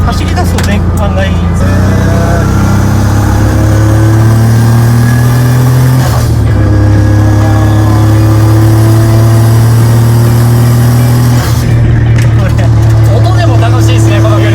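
A GCG-turbocharged Honda S660 (JW5) with a dog-leg gearbox, tuned to 220 horsepower, drones steadily under way. Its engine note steps up through gear changes while people talk inside the car.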